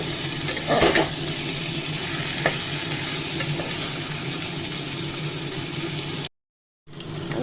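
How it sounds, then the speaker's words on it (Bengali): Tomato and potato pieces sizzle and crackle in a hot pan with occasional scraping stirs, a steady close frying hiss before a brief silence. "টমেটো আর আলু একসঙ্গে দিয়ে দিলাম এটাও ভাজা ভাজা করে নেব"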